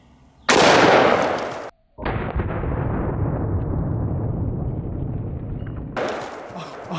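A 500 S&W Magnum snub nose revolver fires once into a watermelon, a huge close blast followed by a long rolling echo and trailing debris noise, with a second shot near the end.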